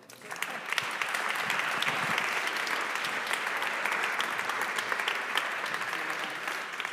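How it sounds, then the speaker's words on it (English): Sustained applause from a conference audience at a forum reading-room session, steady dense clapping throughout at moderate level with no voices on top. "acknowledge the insights provided by Jean-Philippe Ducard, Els Bruggeman, Marco Cialdone, and Luisa Crisi Giovanni with a warm round of applause"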